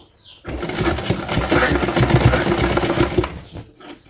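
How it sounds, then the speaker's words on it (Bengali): A sewing machine stitches fabric for a school crossbelt in a fast, steady mechanical whir that starts abruptly, runs loud and close for about three seconds, then stops. "এখন এটাকে চাপ সেলাই দিতে হবে"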